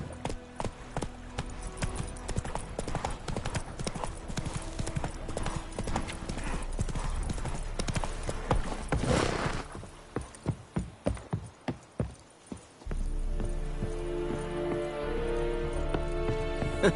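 Roach the horse gallops in The Witcher 3, rapid rhythmic hoofbeats pounding steadily and close, then slowing to separate heavy clops before fading, while a voice speaks briefly over the ride.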